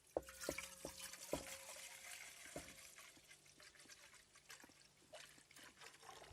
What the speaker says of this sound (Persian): حالا به اندازه کافی آب تو قابلمه‌مون میریزیم.